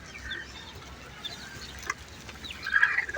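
Chickens cluck and call on a rooftop chicken farm in a city, nearby and moderately loud, with scattered clucks building into a busier burst toward the end.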